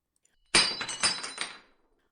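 A small hammer smashes ice cubes on a table: a sharp crack followed by a quick series of glassy clinks and crunches, close and clear, fading out over about a second.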